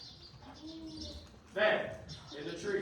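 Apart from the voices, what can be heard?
birdsong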